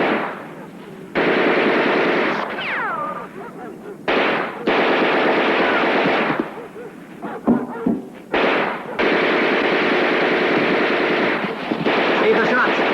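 Sustained bursts of rapid machine-gun fire, loud and close, in long rattling volleys separated by short gaps, with a few distinct louder shots.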